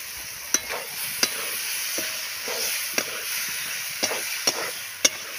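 Shoal fish and fried potatoes sizzle in spiced oil for a village-style kaliya, with a steady bright hiss and periodic sharp clicks of a spatula scraping and stirring the pan.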